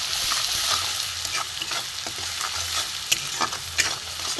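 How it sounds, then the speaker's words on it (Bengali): Red chilli powder, green chillies and spices frying in hot oil for a parshe fish mustard curry, a continuous close sizzle with clattering spatula strokes and scrapes against the pan. "এটা আমি কষে নেবো ভালো করে"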